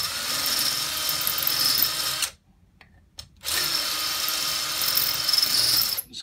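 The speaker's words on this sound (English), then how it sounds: "we're going to use this 3/8 reaming tool. There's actually to go into the hole and ream it out a little bit." A 3/8 reaming tool, power-driven, reams out a hole in a quick connect fitting with a steady high whir that runs for about two seconds, stops briefly, then resumes for another long run, close by.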